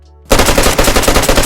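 AUR-A1 assault rifle in DayZ opening up after a brief quiet moment, a loud, close burst of rapid automatic fire with evenly spaced shots continuing to the end.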